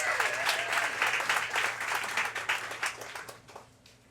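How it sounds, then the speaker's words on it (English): An audience applauds for the host, a full burst of many hands clapping that holds steady and then thins out toward the end, close and lively. "Can we get a round of applause for our lovely host,"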